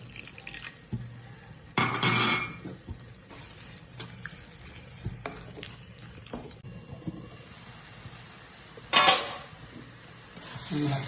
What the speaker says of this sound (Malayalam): ഇതിലോട്ട് ഒരല്പം വെള്ളം ഒഴിച്ചു കൊടുക്കാം.